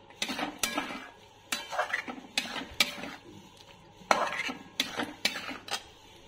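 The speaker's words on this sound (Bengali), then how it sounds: "আলুটাও সাথে একটু ভাজা ভাজা মশলার সাথে করে নিচ্ছি।" Potatoes being fried with spices in a pan for egg biryani, stirred with a utensil that clinks and scrapes against the metal in repeated bursts, close and fairly loud, over a faint sizzle.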